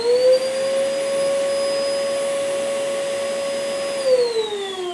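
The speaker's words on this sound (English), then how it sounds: "And the best bit is dust extraction." A workshop dust extractor runs steadily after being switched on by a remote control socket, a loud, even whining drone with a sharp tonal hum that holds for several seconds, then dips slightly in pitch near the end.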